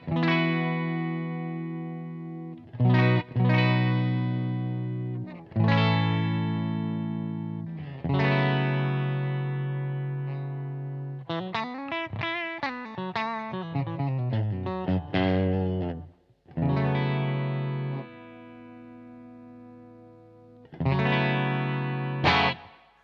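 A Fender Professional Strat with Seymour Duncan pickups played through the clean channel of a Humboldt Dumblifier overdrive pedal: ringing chords and sustained notes with a short quicker melodic run in the middle, loud and close, with no talking.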